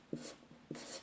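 A pen scratches quickly on paper, drawing a molecular ring in a few short strokes, close and quiet.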